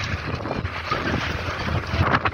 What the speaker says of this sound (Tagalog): Mahangin din.